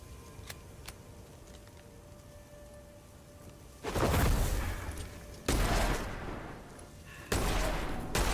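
Gunfire from the dark fantasy first-person extraction shooter Witchfire: after a quiet stretch, three loud, heavy bursts of shots crash in one after another, each cut off sharply, with no talking.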